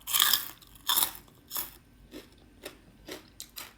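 Crisp crunching of crackers being bitten and chewed up close, a few loud crunches first, then softer, quicker chews trailing off.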